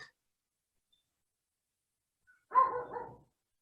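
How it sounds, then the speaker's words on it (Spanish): Dogs barking in the background of an online class, leaking through an open microphone: one short, muffled burst after near silence, faint and distant. "se está filtrando ahí el ladrido de mis perros"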